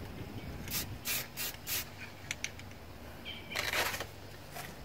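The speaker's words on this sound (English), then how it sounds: "And we'll do a test spray." Rust-Oleum camouflage spray paint given a test spray while painting a custom GI Joe figure: a few quiet, short hissing bursts, then a slightly longer spray over a low background hum.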